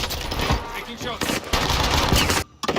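Bursts of automatic gunfire from the video game Warzone, rapid rattling volleys and scattered shots under a player's voice, ending in a brief silence.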